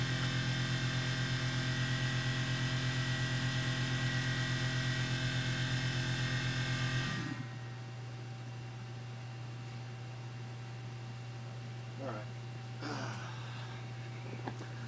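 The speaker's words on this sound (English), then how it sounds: "Let me turn off that compressor here real quick." A small air compressor feeding a CNC machine in a machining workshop drones loud and steady, then cuts off abruptly halfway through, leaving quieter room noise with a few faint knocks.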